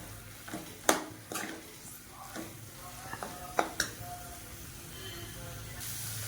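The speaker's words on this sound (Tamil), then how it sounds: "அடுத்து மல்லித்தலை தூவி நல்லா கிளறிட்டு இதை வந்து ஸ்டவ் ஆஃப் பண்ணிடணும்." Kerala-style beef fry being stirred in a pan, with a steady sizzle underneath and several sharp utensil scrapes and clinks against the pan, close and fairly quiet.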